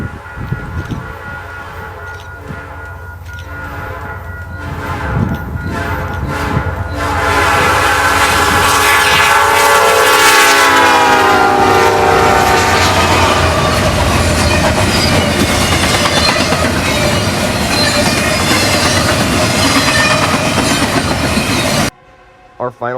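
A Norfolk Southern hotshot freight train speeds westward through Chicago's East Side, its horn blaring in long, loud blasts as the locomotive nears. The roar of wheels and rattling cars then swells and holds close before stopping abruptly.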